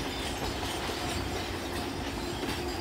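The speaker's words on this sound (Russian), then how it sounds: "Поезд, ребята, едет." A train rolls past nearby with a steady rumbling roar and a faint rhythmic clatter of wheels, no voices.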